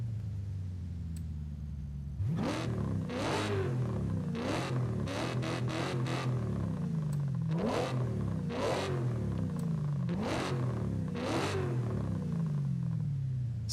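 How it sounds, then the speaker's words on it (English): A car engine with induction growl and race exhaust in Forza Horizon 5 idles briefly, then revs repeatedly in sharp bursts, each rise and fall loud and close, with no talk. "The induction growl."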